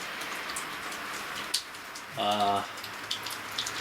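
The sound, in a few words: early morning rain falling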